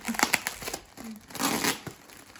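Paper or plastic wrapping of a delivered package being torn and crinkled open by hand, a few sharp rips amid steady rustling, close and fairly loud with no talk.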